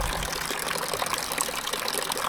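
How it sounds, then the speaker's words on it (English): Rain pattering steadily onto a camera outdoors on a farm, a dense, continuous wet hiss with close trickling texture, no voices. "All the rain on the camera."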